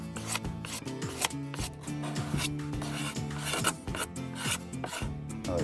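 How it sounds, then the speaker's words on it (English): A steel plane blade scrapes hard and repeatedly across a varnished wooden surface, stripping off varnish, close and loud, in a steady rasping rhythm with no talking. "just pick up a plane blade like this and just very aggressively just scrape it right off"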